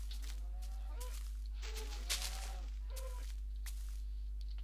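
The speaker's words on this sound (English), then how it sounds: "Cows here, harvest them." Cows mooing in the Minecraft video game: a few drawn-out, fairly quiet moos with a gap between them, over a steady low background hum and no talk.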